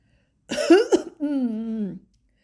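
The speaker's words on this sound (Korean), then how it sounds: "몇 번 헛기침을 하고 입을 뗐다" A voice clears its throat deliberately, a gruff rasp followed by a drawn-out voiced hum, close and distinct.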